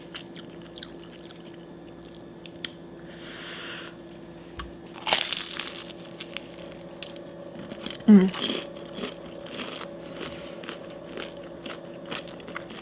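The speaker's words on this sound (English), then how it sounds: "Try to crunch on these while they're still crunchy." Homemade Hot Cheetos fried egg rolls crunch in a few sharp, close bites that stand out from near-silence, scattered crackles following between them.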